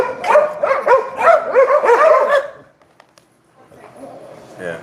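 Several pet dogs bark excitedly indoors in a rapid, loud cluster of yips and barks that then drops away, leaving quieter room noise.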